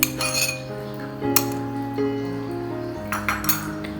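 A spoon stirs soaked basil seeds into a milk sharbat, striking the glass in bright ringing clinks, several distinct taps with lingering tones, close and clear.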